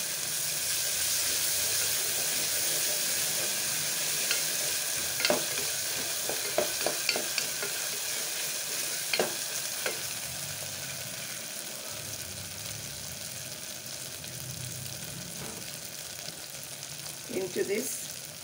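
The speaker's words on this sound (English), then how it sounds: "Stir it." Ginger garlic paste frying in oil in a pan, a continuous close hiss and sizzle broken by clusters of spoon taps and scrapes as it is stirred.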